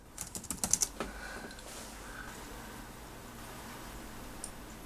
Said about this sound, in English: Go ahead and type in my password.